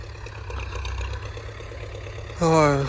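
A tractor drives across a small field while discing the soil, a steady low engine drone running under the whole stretch, joined near the end by a brief loud voice close by.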